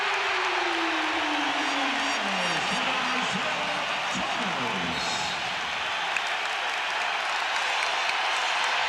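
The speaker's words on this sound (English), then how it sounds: "Here comes the crowd." Roaring crowd at a 1989 Eastern Conference Finals game between the Chicago Bulls and the Detroit Pistons, a dense, steady wall of cheering and applause with a descending tone sweeping beneath and a commentator talking over it.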